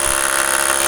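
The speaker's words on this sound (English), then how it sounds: "1/4-inch bit on the rotor hammer, the cordless, of course." A cordless rotary hammer bores into material under a house with a 1/4-inch bit, giving a steady, loud, continuous whirring drone with no pauses over the whole moment.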